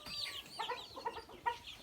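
Chickens clucking nearby, several short throaty calls overlapping, with no talking.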